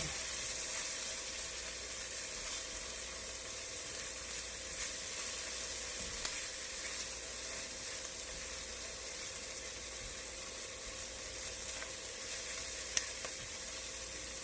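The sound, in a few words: garlic sizzling in a pot while stirred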